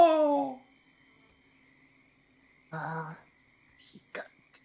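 A person vocally imitates the call of an ugly-sounding bird, giving short hoarse hooting cries in brief bursts separated by quiet, near and fairly faint, with a little speech at the start.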